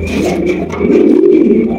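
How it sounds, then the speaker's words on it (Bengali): A pair of black king pigeons at a pigeon seller's stall give a deep, throaty coo, a close, loud rolling burr repeated in a couple of pulses with no talk over it. "এখানে রয়েছে আরো একজোড়া কিং কবুতর, ব্ল্যাক কালার মধ্যে দেখতেই পাচ্ছেন"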